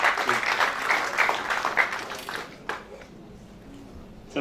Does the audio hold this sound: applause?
yes